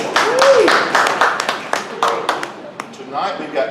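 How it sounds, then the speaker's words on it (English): Small audience at an evening event giving a short round of clapping, a handful of distinct claps close by that quickly taper off, with a voice speaking briefly amid it. "Let's give a round of applause."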